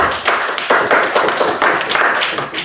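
A classroom of students claps hands together for a classmate, a dense, close burst of overlapping claps that swells and eases in uneven waves for a few seconds.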